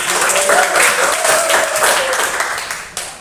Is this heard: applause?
yes